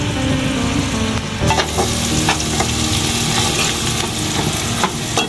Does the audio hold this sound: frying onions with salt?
yes